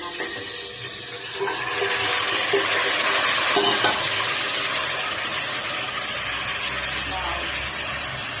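Marinated mutton goes into a hot pan for a thick gravy curry. A broad, hissing sizzle swells after the first second and carries on steadily to the end, with a voice speaking beneath it.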